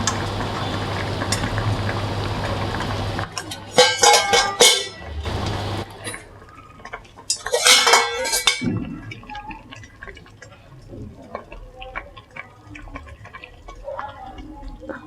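A pudding steaming pot has its lid lifted after a steady low hum, bringing sharp metallic clatter and clinks in two bursts with a hiss of steam, then quieter handling noises.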